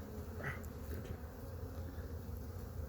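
Honeybees hum steadily around hives at an apiary during a state inspection, a soft, constant drone with a few nearer passing buzzes, and no voices.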